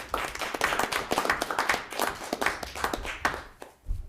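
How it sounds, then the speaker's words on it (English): Scattered clapping from a small group at a virtual annual town meeting in Weathersfield, a few seconds of uneven applause that thins out toward the end. "a bunch of applause for all this hard work."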